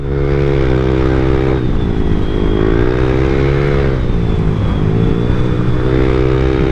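Yamaha Aerox SP scooter with an aftermarket exhaust pipe, heard up close while riding, a loud continuous droning engine note rising and falling as the throttle changes, with no talking.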